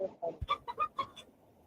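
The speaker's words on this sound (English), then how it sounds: "I fucking heard a cock-a-doodle-doo too" Chickens clucking in a quick run of short, bright calls, about six distinct bursts close by, then fading out.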